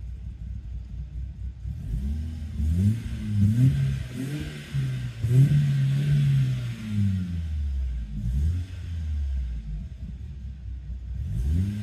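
A BMW M43 four-cylinder engine with a newly flashed BMS43 ECU, not fully warmed up, revs up and down in several rising and falling sweeps over a steady idle rumble, close and fairly loud, no talk.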